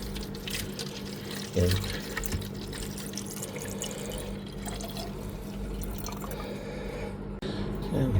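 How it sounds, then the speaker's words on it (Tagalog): Salt water is poured into a jar for a homemade metal battery electrolyte, giving a steady trickling and splashing that runs throughout at close range, with a brief spoken word over it. "Lagyan natin ng tubig asin ang ating garapon."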